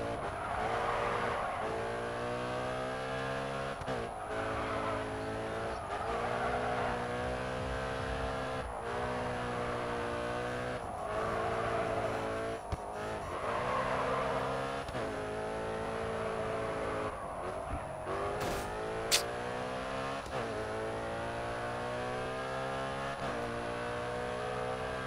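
Nissan Skyline race car driven in the racing game Grid 2, its engine revving up and down through repeated gear changes, loud and continuous with occasional tire squeals near the end.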